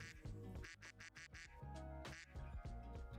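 Rapid, loud duck quacks from a sound effect come in a busy, overlapping run of nasal honks that fill the short stretch alone.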